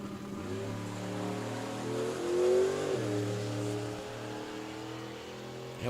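Mustang drag race car accelerating down the racetrack at Spring Fling Galot, a steady loud engine drone with rising harmonic pitch midway, heard from a distance with no talk.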